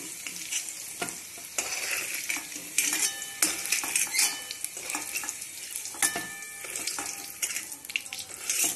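Cooked taro (arbi) curry is spooned from a kadhai into a bowl: steady metal scraping and clinking of the spoon against the pan over a soft sizzle, close and continuous with no speech.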